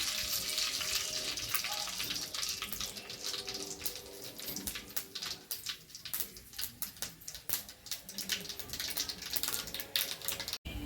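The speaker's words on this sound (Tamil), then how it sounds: "இப்போ எண்ணெய் நல்லா காஞ்சிருச்சு கடுகு போட்டுடலாம்" Mustard seeds dropped into hot oil for a Tamil murungai keerai kuzhambu splutter and pop in a dense, irregular crackle that keeps going throughout, fairly close and alone.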